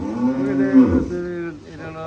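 A dairy cow moos once at a farm, a loud close low bellow with a rising and falling tone, over steady background noise and a voice.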